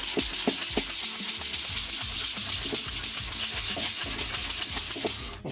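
Hand sanding of an Ibanez S320 guitar body with a sanding block, a close, rhythmic rasp of quick back-and-forth strokes repeating steadily with no talk.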